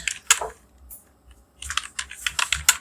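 Keys clatter on a computer keyboard during data entry in Tally Prime accounting software: a short burst of taps, a pause, then a faster run of close, crisp keystrokes.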